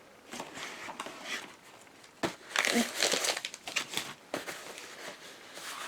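A large Royal Mail envelope from Amazon is handled and crinkled up close, with bursts of papery rustling and crumpling that swell in the middle and continue in uneven handling noises.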